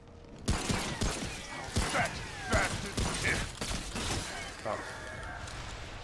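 Gunfire in the video game Remnant: From the Ashes: a string of sharp, separate shots with metallic clanks in between, fairly loud, while a player talks over them.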